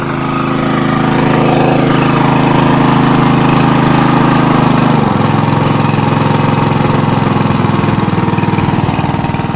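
A portable alkon water pump engine runs steadily while irrigating a rice field, a loud continuous mower-like drone whose pitch drops partway through as the throttle is eased back, then holds a lower, rougher idle.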